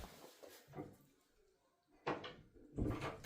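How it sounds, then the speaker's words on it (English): A door inside a room is shut, with a few soft bumps and then two louder thuds as it closes, nearby with light handling noise. "let me just close the door."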